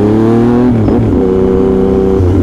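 A 2020 Yamaha MT-09 motorcycle engine revs loudly and close by, its pitch climbing and dipping through several throttle blips in a steady, strong roar with no talk over it.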